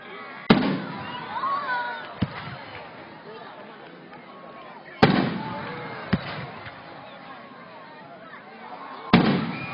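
Fireworks bursting at the Valley View display, a few sharp booming explosions spaced several seconds apart, with crowd chatter and voices running underneath throughout.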